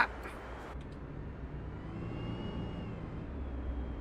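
An electric truck in Euro Truck Simulator 2 drives almost silently, with only a faint, steady low whir and road hum and a light rising whine partway through.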